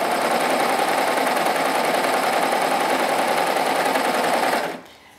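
A sewing machine runs steadily at high speed while trimming and binding fabric edges, a loud continuous whirring drone that cuts off abruptly near the end, with no talk.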